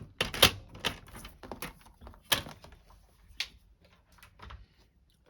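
Card stock trimmed on a paper trimmer, cut about 3 centimeters in: a series of crisp clicks and sliding scrapes, close and fairly quiet, with a few louder snaps and short pauses between strokes.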